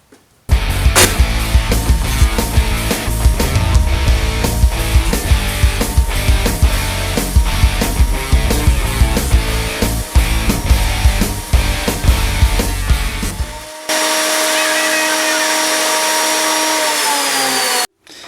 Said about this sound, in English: let's bust out the planer